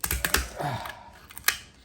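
KitchenAid kitchen scissors cut through a lobster shell, giving a few sharp, close crunching snips and clicks in quick succession, then a last snap after a short pause.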